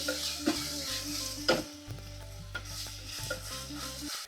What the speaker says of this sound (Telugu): ఇప్పుడైతే మనం దీంట్లో అల్లం వెల్లుల్లి పేస్ట్ అయితే వేసేసుకుందాము. ఇది కూడా పచ్చివాసన పోయేంత వరకు వేపుకోవాలి